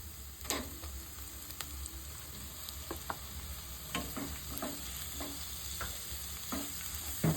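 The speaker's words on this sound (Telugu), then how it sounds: "ఇప్పుడు చికెన్ కీమా వేసుకుందాం" Chicken keema fries in a pan, a quiet, continuous sizzle punctuated by frequent light spatula taps and scrapes at an uneven pace, heard close and without talk.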